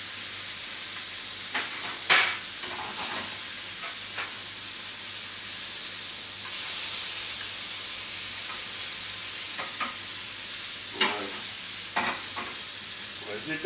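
Pieces of cod and smoked pork belly sizzle in a hot frying pan, a steady soft frying hiss broken by a few sharp crackles and spatters.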